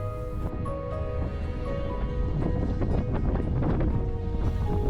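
Strong wind buffets a sailboat off Bora Bora, a continuous roar with gusting rumble and rushing water, loud and close throughout.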